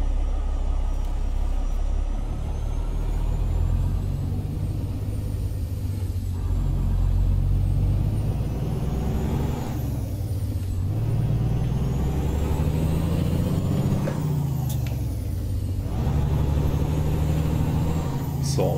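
A heavy American truck engine pulls hard in American Truck Simulator, a steady loud low rumble that swells and dips with revving as it accelerates, with no speech over it.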